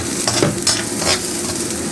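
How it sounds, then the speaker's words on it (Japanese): Snake gourd and other vegetables sizzle and clatter in a hot wok as they are stirred, with brief scraping strokes over a constant frying hiss. "跟住落埋啲聖瓜落去一齊炒"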